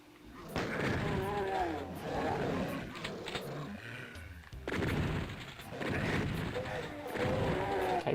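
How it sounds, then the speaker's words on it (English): Enemy gunfire in Doom 2 on the Nintendo Switch comes as loud, harsh bursts of blasts mixed with growling, roar-like noise, in two long waves with a short lull between them. "Someone's shooting me from behind."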